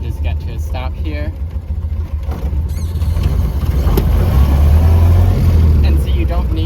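A 1930 Ford Model A engine revs up and rises to a steady rumbling drone, with a clunk of the gearshift partway through. Someone talks over the engine at the start.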